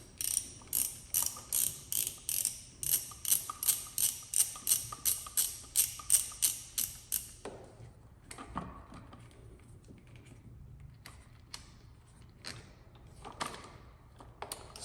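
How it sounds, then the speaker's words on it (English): Ratcheting wrench loosening the 10mm positive battery terminal bolt on a Kawasaki ZX-14R motorcycle: a quick, even run of close metallic clicks that stops partway, followed by scattered lighter taps and handling noises. "we will remove the positive with a 10mm bolt"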